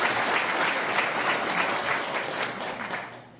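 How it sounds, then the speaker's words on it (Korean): Steady, dense applause from a seated audience at a Korean provisional government anniversary ceremony, loud and continuous before tapering slightly at the end. "박수 부탁드립니다."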